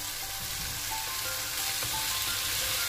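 Crispy fried chicken bites hiss and sizzle steadily in a hot pan of Indo-Chinese sauce, a close, continuous frying crackle with faint stirring clinks and no talk.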